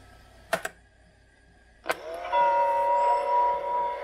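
A Browni TTR 402 high-fidelity tape recorder rewinding at close range: two quick clicks, then a switch thunk and a steady, rising motor whine with a bright tonal hum that holds loud to the end.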